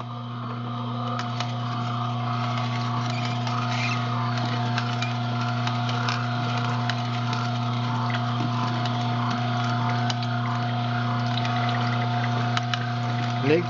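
An Omega juicer pressing grape tomatoes gives a steady motorized hum with strong low tonal bands and a faint wet, liquid churn, continuous and fairly loud throughout, with a voice talking briefly over it.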